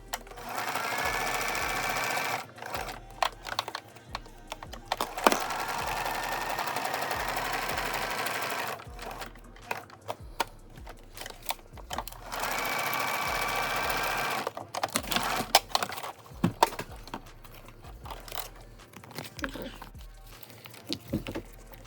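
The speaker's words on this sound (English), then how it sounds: "We are gonna sew it" A sewing machine stitches a pocket into a wedding junk journal made from an altered book, running in several bursts of rapid whirring separated by short pauses and light paper handling.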